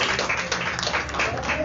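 A church congregation claps together in a steady, dense wash of hand claps that runs through the whole moment at a moderate level, with a voice talking over it.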